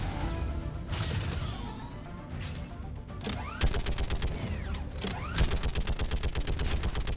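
Rapid turret gunfire in Mass Effect 3, dense bursts of sharp repeated shots hammering away, pausing briefly and then resuming as a fast rattling stream, loud and close with no talking.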